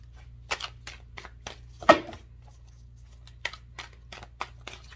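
Tarot cards being shuffled by hand on a hard surface, a series of short, crisp riffling bursts repeating at an uneven rhythm, close and fairly quiet over a low steady hum.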